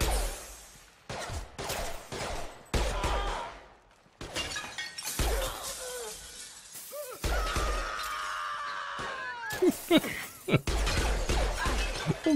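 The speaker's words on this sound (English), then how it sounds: "I'm busting up all this dude's artwork" Repeated bursts of smashing and shattering as artwork breaks in quick succession in Mass Effect 2, with short gaps between crashes and some background sounds.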